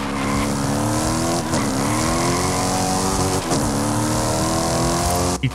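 Cadillac CT5-V Blackwing with a 6.16-litre V8 in the Forza Horizon 5 video game, roaring loud and close for several seconds as the revs rise and fall between gear shifts, with no voices.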